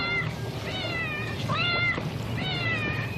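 A reluctant cat on a boat meows repeatedly in a film scene, three drawn-out, wavering cries spaced across a few seconds over a steady low background hum.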